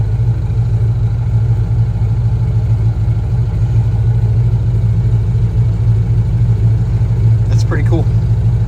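A turbocharged Foxbody Mustang engine drones steadily and loudly up close during trans brake testing, holding a constant heavy rumble throughout while someone comments briefly near the end.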